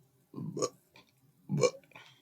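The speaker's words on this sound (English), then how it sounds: "yeah, burps don't get any more feminine." Two loud, close burps from a person, each a short guttural croak, separated by a brief pause with a small vocal sound between them.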